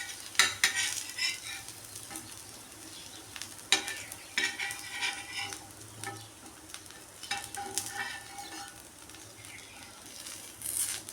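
Spatula stirring and turning pieces of crispy fried elephant foot yam in a pan, with soft sizzling under irregular scraping and clinking strokes, close and moderately quiet, no voices.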